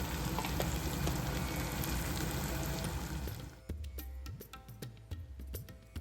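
Crispy okra with chickpea flour sizzles steadily in a pan, a dense frying hiss that drops away after a few seconds to irregular, close scrapes and taps of stirring.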